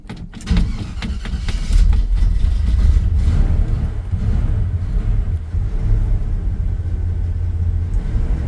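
A 1978 Chevy truck engine cold-starts after sitting unused, turning over and catching into a loud, steady low rumble that keeps idling roughly.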